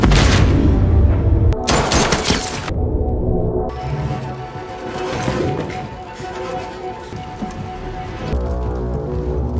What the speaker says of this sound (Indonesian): Baku tembak terjadi.